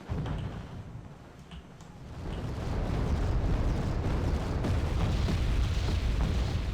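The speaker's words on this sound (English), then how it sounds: "Artillery's firing." Artillery fires in Wargame: Red Dragon as a deep, rolling rumble that swells after a quieter opening and holds as a continuous heavy roar of distant blasts.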